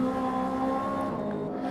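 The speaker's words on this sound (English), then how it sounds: "So 2 S2000s fighting it out here." Two Honda S2000 race cars in a sim racing game at Mount Panorama, their engines droning steadily with sustained harmonic tones, close and continuous with no talk.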